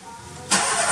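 A Volkswagen car engine cranks and catches, jumping abruptly from quiet to a loud, steady running roar that continues to the end.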